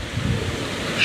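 Strong wind from departing Cyclone Batsirai roars steadily and close, buffeting the microphone in a brief continuous rush.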